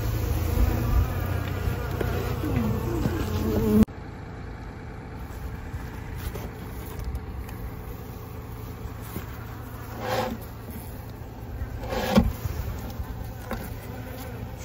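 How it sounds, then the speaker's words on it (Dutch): A dense hum of many honeybees buzzes steadily at a strong colony's hive, close and continuous throughout, louder in the opening seconds and then a little quieter, with a few individual bees flying past up close. "Veel jonge bijen te zien."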